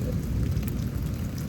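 A low, steady roar of thunder from an intense lightning storm over Houston, Texas, rumbling continuously beneath heavy rain throughout, loud and enveloping, with no voices.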